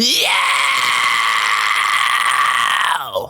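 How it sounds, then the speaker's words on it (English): A fry scream vocal technique held as one sustained, strained, gritty scream, loud and alone, about three seconds long, bathed in a big reverberant space and fading at the end. "a type of scream that's called a fry scream"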